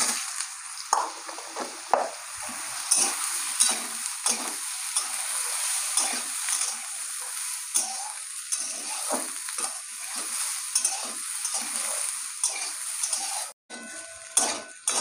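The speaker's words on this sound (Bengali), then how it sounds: "সোয়াবিনটা ভেজে নিয়েছি ভালো করে।" Soybean chunks with turmeric frying in a pan, a constant crackling sizzle broken by repeated scraping stirs of a spatula, close and busy throughout.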